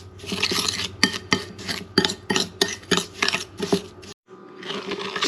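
A spoon stirs brown sugar with lemon juice and rice vinegar in a bowl, producing rhythmic gritty scraping strokes about twice a second, close and moderately loud, with a brief pause before stirring resumes.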